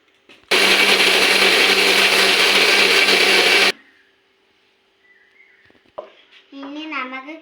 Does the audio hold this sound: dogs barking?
no